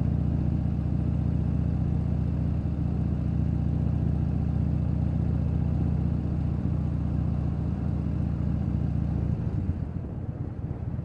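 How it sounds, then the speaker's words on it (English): A continuous low, rumbling motorcycle engine drone at steady volume, muffled through aftermarket mufflers while riding, tapering slightly near the end. "I don't have a full exhaust, but I got mufflers and it is kind of loud."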